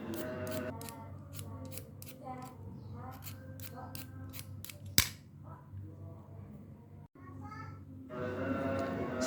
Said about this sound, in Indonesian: kupas kulitnya menggunakan serutan khusus untuk wortel agar bersih